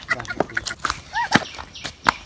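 A chicken with weak, crippled legs clucks and squawks in short bursts amid other scattered noises and brief voices in a lively outdoor setting.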